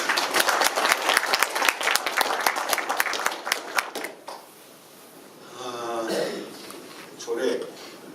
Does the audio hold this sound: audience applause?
yes